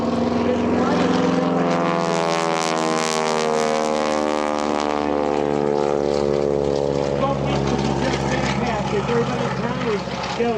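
Propeller airplane performing a hammerhead turn at an airshow, its engine droning loudly and shifting pitch as it climbs, stalls and turns, with a voice commentating over it.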